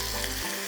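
Potatoes sizzle loudly as they hit hot oil in a pan, a continuous close frying hiss.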